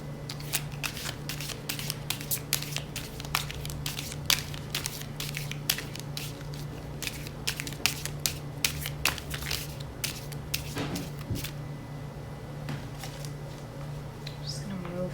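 Tarot cards being shuffled by hand, close and fairly quiet, with a continuous run of small papery clicks, flicks and riffles at an uneven rhythm, occasionally sharper snaps over a low background hum.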